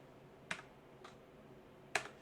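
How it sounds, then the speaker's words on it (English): A few sharp, isolated clicks of a computer keyboard's space bar being pressed, three distinct taps spaced about half a second to a second apart, close and fairly quiet with no talk. "If I type a bunch of spaces with nothing else"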